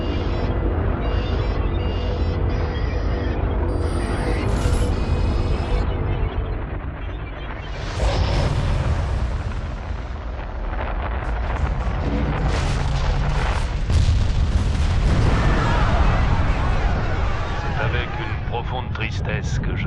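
The Freedom 4 space shuttle lifts off with a continuous, loud, deep rocket roar, then a heavy boom as it explodes in flight, and a dense rumble follows, with voices heard under the noise.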